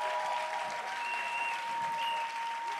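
A church congregation claps together in steady, continuous applause to acclaim the Lord, with a faint voice audible beneath the clapping.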